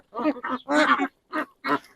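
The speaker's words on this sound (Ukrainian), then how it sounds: "А це ось гусенята чи каченята." Goslings or ducklings calling on a village farm, several short nasal honking quacks in uneven bursts, close and fairly loud.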